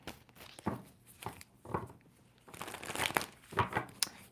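A tarot card deck is shuffled by hand close up, producing papery crinkling and riffling bursts in uneven clusters that grow busier and louder toward the end, with no talking.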